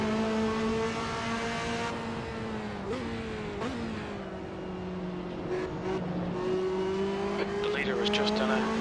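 Racing car engines in Assetto Corsa drone loudly with shifting pitch as a car accelerates and lifts, brief tyre squeal and other cars audible, while someone commentates over the top.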